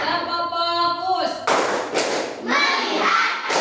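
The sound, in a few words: class of children clapping a rhythmic clap chant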